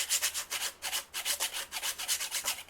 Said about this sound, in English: I keep my ginger in the freezer, and I just grate it off as I need it with one of these little graters